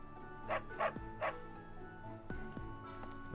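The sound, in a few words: dog barking in video game Fire Emblem: Three Houses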